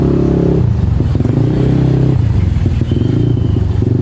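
Motorcycle creeping through a traffic jam, recorded from a clip-on mic, with a loud close engine rumble that drops in pitch and steps up again as the throttle changes, alongside light clattering.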